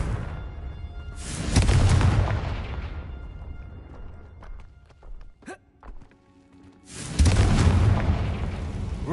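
Two loud, booming Confringo blast explosions from a Harry Potter video game roar several seconds apart, with faint footsteps and small clicks in the quieter stretch between them.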